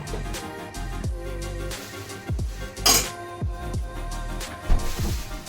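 Masala jowar roti dough being mixed by hand in a bowl with chopped curry leaves and coriander, with repeated soft clinks and knocks of the bowl and utensils in an irregular rhythm, close and moderately loud, no talking.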